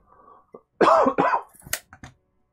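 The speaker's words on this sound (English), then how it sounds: "If I've coughed in anybody's ear there, I do apologise" A person coughs several times in a quick cluster, a couple of harsh, throaty barks followed by smaller hacks and a throat clear, close to the microphone during a tabletop Warhammer game.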